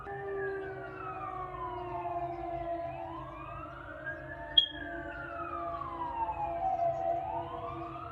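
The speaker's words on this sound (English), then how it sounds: "Sorry about the sirens, y'all." Emergency sirens wail with slow rising and falling sweeps, several overlapping, heard at a distance over a low background hum.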